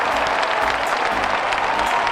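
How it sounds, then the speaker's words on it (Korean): Audience clapping for a coloring challenge, a short, steady wash of applause with no voices over it. "야! 박수!"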